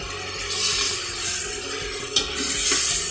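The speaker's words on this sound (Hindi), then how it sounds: "मज़ीद इसे भुनेंगे ताकि हमारी अच्छी सी ग्रेवी बन जाए।" A green bean masala with red chilli, turmeric and tomatoes fries in a pan with a steady, close sizzle. Faint stirring and scraping noises sit under the hiss, and no voices are heard.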